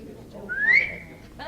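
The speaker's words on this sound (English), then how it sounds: "there's always somebody that can whistle" A person whistles a single rising, then sustained note that lasts about half a second, clear and close, in a room where faint voices murmur.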